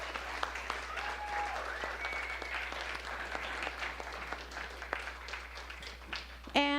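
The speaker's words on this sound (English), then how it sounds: "let's just give a round of applause for all those people" An audience at a small music café claps in sustained applause, dense and even throughout, with a few voices briefly audible within it before it fades out.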